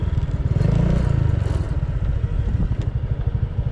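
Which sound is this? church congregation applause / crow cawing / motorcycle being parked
motorcycle being parked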